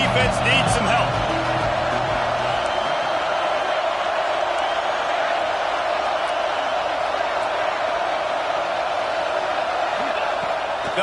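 Football stadium crowd swelling into a broad, steady roar of cheering on a third-down play, loud and sustained throughout with no letup.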